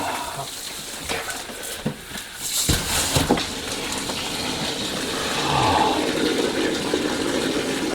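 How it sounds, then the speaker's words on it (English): Water under line pressure gushing from a disconnected pipe into a bucket during a house renovation, a continuous rushing splash with brief louder bursts and a swelling stream near the end. "I have the bucket here just to catch the bit of water that's draining, or that's going to drain from the line."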